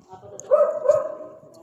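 A pet dog at an anti-rabies vaccination drive in Panukulan, Quezon gives a short, fairly close bark or yelp with a whimpering edge, heard over background voices.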